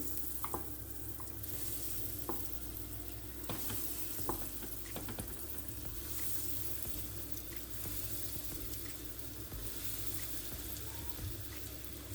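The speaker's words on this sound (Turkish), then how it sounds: "patates toplarımı şu şekil hazırladım ve e, şimdi kızartacağım" Potato balls fry in oil that was heated in advance, giving a continuous close sizzle scattered with small pops and crackles. No one speaks.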